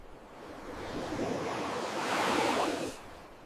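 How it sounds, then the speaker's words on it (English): Ocean waves wash in as a steady broadband rush that swells to a louder surge and then quickly drops away, with no voices over it. "This vast, indifferent ocean."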